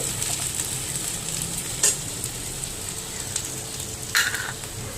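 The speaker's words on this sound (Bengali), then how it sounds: "চিংড়ি মাছ তো নেই, পেঁয়াজ দিয়েই ভাজা করছি" Onions frying in a pan, a steady close sizzle throughout with two brief scraping stirs of the spatula, no talking.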